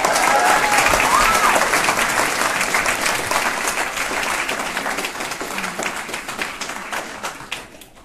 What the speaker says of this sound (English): It's a good clap.